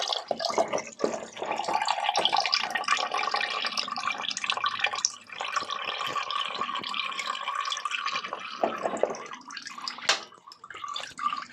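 Coolant drains steadily from a Yamaha Thundercat into a bowl held beneath it, a close, continuous trickling and splashing pour of liquid that runs for several seconds before tapering off.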